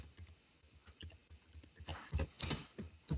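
Keys tapped on a computer keyboard in a quiet room, soft irregular clicks that build into a quicker, louder burst of typing near the end.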